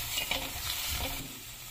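Soya chunks and spices fry in a pan while being stirred for a soya aloo sandwich filling. A steady sizzle carries soft scraping stirs, close and continuous, with no talking.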